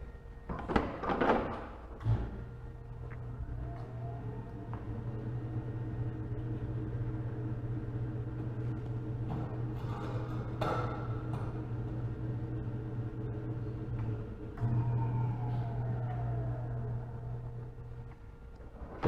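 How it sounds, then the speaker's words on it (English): A WBE4100 wheel balancer spins a wheel under its closed hood. A clunk opens it, followed by a steady low motor hum and whir that runs for many seconds, moderately quiet and without speech. "Close the hood, let it spin."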